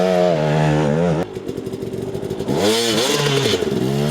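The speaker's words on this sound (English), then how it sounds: "it's better to use the lower portion of the power band and grunt the motor" A trail motorcycle's engine lugs and grunts low in its power band, rising in short revving bursts, dropping to a chugging idle-like thump, then pulling up again, close and loud.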